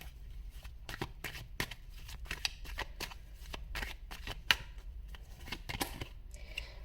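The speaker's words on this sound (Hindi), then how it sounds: "ओके कुछ कार्ड्स मैं यहाँ से भी निकालना चाहूंगी." Tarot cards being shuffled and drawn for a love reading, giving a steady run of crisp riffling flicks and snaps close by, with a few sharper card slaps and no talking.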